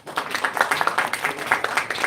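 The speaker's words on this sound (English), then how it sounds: "Give them a big round of applause." Audience applause at the Malaysia Auto Lifestyle Festival 2025: brisk, fairly close clapping from a crowd, dense and steady for about two seconds.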